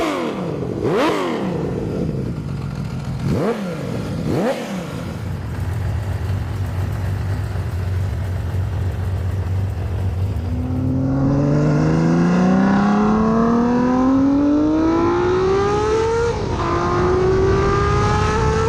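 Honda CBX 1000 inline six-cylinder motorcycle engine, first blipped in a few sharp revs, then pulling hard through rising gears with a smooth, high, multi-toned howl close to the listener, with no talk.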